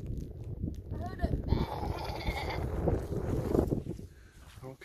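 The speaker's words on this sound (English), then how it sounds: "Goat." A goat bleats amid a jumble of nearby voices talking over it, the animal calls short and wavering.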